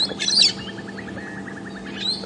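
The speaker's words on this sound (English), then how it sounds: "Some parrots just flew past. That's the screeching noise you can hear." Harsh, high-pitched parrot screeches burst out at the start and again near the end as parrots fly past at Djuma Game Reserve, with a softer run of repeated chirps in between.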